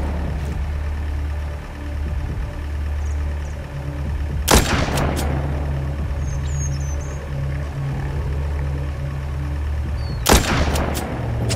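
A weapon in the zombie game Walking Zombie 2 fires two loud, sharp single shots several seconds apart. Each crack rings out briefly over a steady low mechanical hum, with no one talking.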